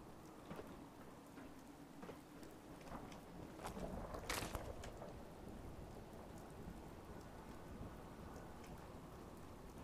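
Steady rain with rolling thunder during a radiation storm in Fallout 4, a continuous downpour hiss broken by a loud crack of thunder near the middle, alongside occasional footsteps.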